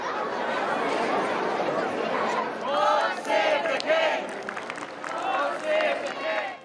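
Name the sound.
royal supporters cheering arrival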